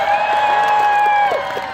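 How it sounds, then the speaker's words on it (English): At a 14th-century-style tourney, an audience cheers for the knights with loud, sustained yells and whoops that hold steady through a short burst, close and strong. "So would you care to cheer for your knights one more time?"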